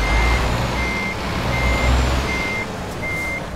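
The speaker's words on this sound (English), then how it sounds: "Vehicle is reversing. You know, my vehicle's reversing." A truck in the Euro Truck Simulator 2 game sounds steady, evenly spaced reversing beeps over a loud, low engine rumble, heard alone without talk.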